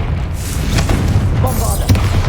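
A Bombarda spell blast from Hogwarts Legacy, a loud continuous boom filling the whole moment with heavy low rumble and a second burst near the end, with no talk over it.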